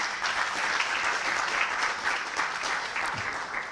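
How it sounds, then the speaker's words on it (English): Steady applause from a conference audience fills the whole stretch, dense clapping at an even level with no voices on top. "I think we should give Laila Latif a big round of applause."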